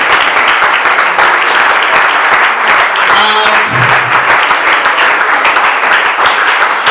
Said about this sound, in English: you must keep clapping. Put your hands together for them.